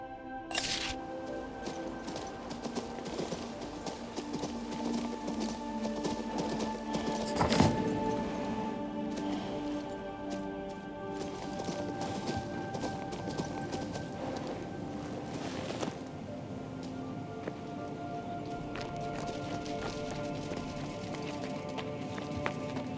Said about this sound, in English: Far is going to bring a horse from the village